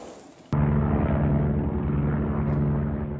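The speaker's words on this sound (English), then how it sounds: "the helicopter's still doing his thing" Helicopter flying nearby over an Alaska homestead, a sudden loud steady rotor drone that starts after a brief quieter stretch and holds without fading.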